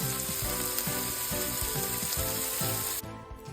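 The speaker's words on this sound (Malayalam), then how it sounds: "എണ്ണ ചൂടായി വന്നാൽ നമുക്ക് സവാള ആഡ് ചെയ്ത് കൊടുക്കാം" Sliced onions sizzle steadily in hot oil in a pan for a Kerala-style crab roast, with a loud, continuous frying hiss broken by rhythmic stirring scrapes that drops away sharply near the end.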